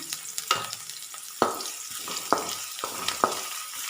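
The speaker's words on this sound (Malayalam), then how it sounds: "ഒരു ചെറിയൊരു ഗോൾഡൻ ബ്രൗൺ കളറാവുന്നത് വരെ ഉള്ളി ഒന്ന് വരട്ടി കൊടുക്കാം." Chopped small shallots sauté in a pan for Kerala dal curry, a close sizzle broken by sharp spatula scrapes and stirring knocks at irregular intervals.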